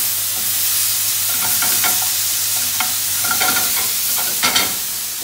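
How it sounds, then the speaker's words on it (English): Beef sears in a hot, smoky pan with a strong continuous sizzle, broken by the scrape and clatter of stirring, close up and without voices. "Now I know that's a bit smoky, but I really want to get a nice sear on this."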